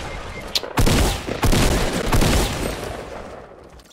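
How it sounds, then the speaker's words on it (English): Shotgun blasts ring out during a Fortnite Battle Royale match, several loud close shots in quick succession with rumbling echo between them, then fading. "I started missing my shotgun."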